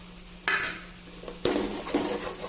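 Chicken gravy masala with chilli powder is stirred in a pan, heard as two sharp bursts of spoon-on-pan scraping and frying sizzle against a low steady background hum.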